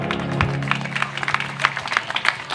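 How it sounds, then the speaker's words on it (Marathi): Audience at a Marathi singing performance clapping, a brief scattered round of applause with uneven sharp claps, fairly close and loud. "तुम्ही सर्वांनी जोरदार टाळ्या वाजवा जरा आता"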